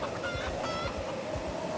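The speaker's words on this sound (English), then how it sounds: "I think I hear a chicken," A chicken clucks in a survival video game, faint repeated clucks set against a steady droning background rumble.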